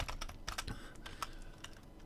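Quick, irregular keystrokes tapped on a computer keyboard, with close, crisp clicks in uneven bursts and no voices.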